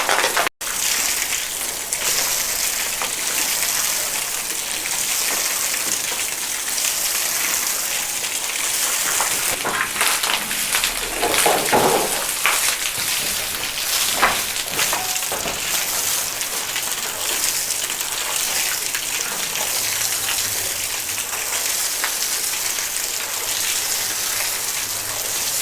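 Water splashing and running against a wall during electrical wiring wall cutting, a continuous hissing spray with irregular gushes.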